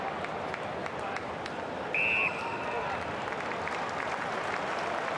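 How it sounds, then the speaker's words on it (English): Carlton Blues fans applaud at an AFL match against Greater Western Sydney, a sustained, dense wash of clapping from a big stadium crowd, with a brief electronic tone partway through. "Huge round of applause from the Blues fans."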